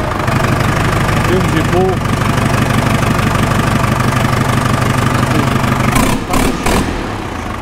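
The Deutz diesel engine of a small Fendt 280 tractor runs loudly without a muffler, a rough, heavy idling clatter close by. Someone speaks briefly over it, and some clanking comes near the end.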